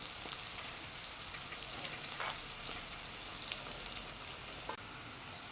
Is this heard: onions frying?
yes